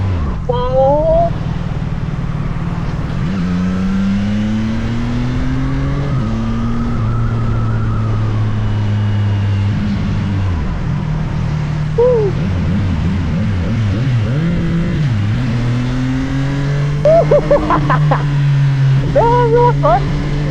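A motorcycle exhaust, the NK675, booms and echoes while riding through a tunnel, a loud heavy drone rising and falling in pitch as the rider shifts and throttles, with the rider's voice mixed in at times.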